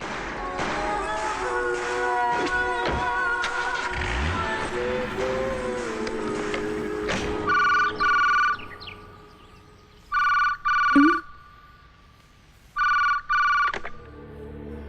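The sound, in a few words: telephone ringing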